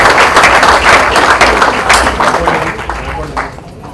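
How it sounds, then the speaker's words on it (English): A crowd at an inauguration event applauds loudly and continuously, dense clapping that gradually thins toward the end. "A big round of applause to Spice for this new initiative."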